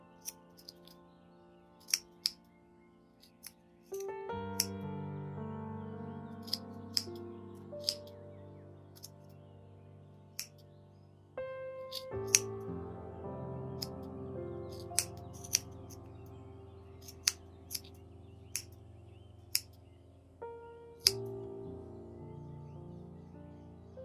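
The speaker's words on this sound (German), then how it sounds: "nehmen das Ganze von der Gabel runter und öffnen nun jetzt diese ganzen Schlaufen mit unserer Schere" Scissors cut open the yarn loops of a crocheted Easter pompom for a rabbit-shaped Easter hanger, giving about a dozen crisp, separate snips spaced unevenly over a soft, sustained musical background.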